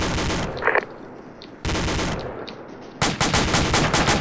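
A DShK heavy machine gun fires three loud, close bursts of rapid shots separated by brief pauses, the last burst longest and most sharply rhythmic.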